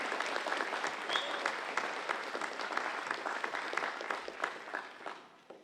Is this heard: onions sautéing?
no